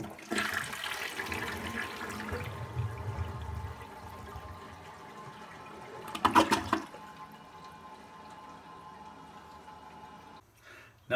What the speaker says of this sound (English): It flushes much more aggressively and fully.